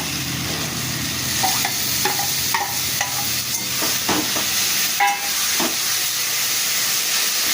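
Potatoes and onion are stir-fried with ground spice paste in a pan: a continuous close sizzle broken by repeated scraping strokes of the spatula, with no voices.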